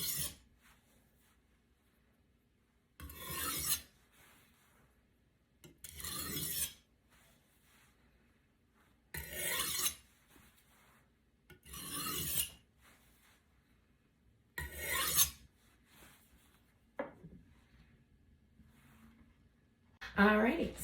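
A knife is drawn across the finer side of a sharpening stone at a 20-degree angle with even pressure. Six short, scraping rasps come at a steady pace about three seconds apart, with quiet between them.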